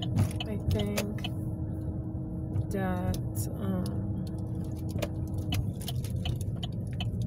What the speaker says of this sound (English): can you hear that noise my car is making?